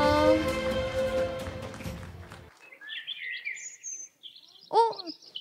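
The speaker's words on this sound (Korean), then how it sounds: "더 푸른 하늘에서 새들이 아름다운 목소리로 하나님을 찬양합니다." Birdsong plays as a sound effect during a church Christmas performance: a few bright chirps and trills arrive after a passage of music ends, fairly clear and alone.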